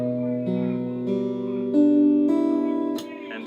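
A single acoustic guitar chord from a song rings out and sustains, re-struck softly a few times, close and fairly quiet, with no voice over it.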